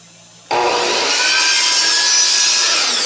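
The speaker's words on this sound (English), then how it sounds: "I don't even know if you can hear me over the CNC" A CNC router runs in a woodworking workshop. A loud, steady high whine with grinding cutting noise starts abruptly and keeps going without a break, with no one talking.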